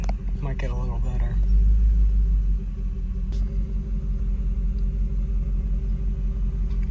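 Car engine at idle, surging slightly, a loud, steady low rumble with a faint swell in the first seconds, heard close with someone talking over the start.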